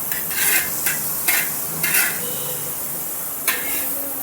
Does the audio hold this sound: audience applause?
no